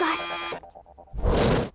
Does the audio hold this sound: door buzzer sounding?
yes